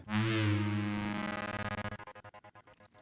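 A synthesized tone with added reverb swells and sustains, then chops into a rapid gated stutter with a reverberant tail, fairly quiet and with no voices.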